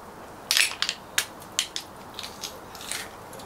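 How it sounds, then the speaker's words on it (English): Halved fresh garlic cloves pressed through a garlic crusher in a home kitchen, giving a run of crisp, close crunching squeaks in uneven bursts, loudest at first and then fading to lighter crackles. "chop these in half so I can get them into my crusher"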